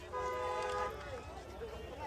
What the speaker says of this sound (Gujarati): ઓ ભાઈ અહીંયા તો ટ્રેન આવી ગઈ.